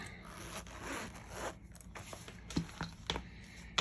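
A gold zipper on a Kate Spade planner is drawn open in a rasping pull, followed by soft rubbing and a few small clicks and handling sounds nearby.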